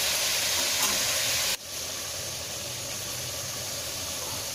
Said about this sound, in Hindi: दो टेबलस्पून लहसुन अदरक का पेस्ट, इसको डाल के हम अच्छी तरह फ्राई करेंगे